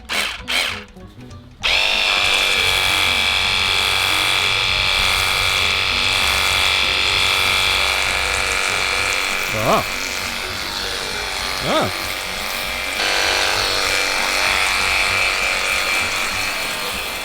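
A cheap $24.99 pressure washer runs with a foam cannon attached, its motor holding a loud, steady whine that begins abruptly after a short start, with two brief swells partway through and a slight shift in tone near the end.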